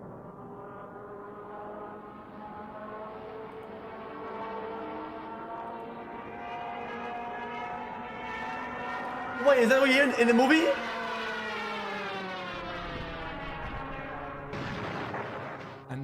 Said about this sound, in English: the sound made by the Junkers Ju-87, otherwise known as the Stuka bomber